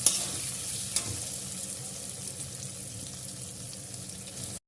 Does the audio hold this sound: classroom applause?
no